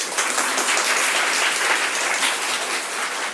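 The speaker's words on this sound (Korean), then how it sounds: "네, 이게 박수 받을 일이었군요." Church congregation applauding during a Sunday worship service, a steady dense wash of many hands clapping at close range for a few seconds, with no talk over it.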